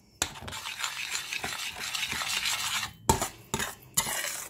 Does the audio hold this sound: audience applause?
no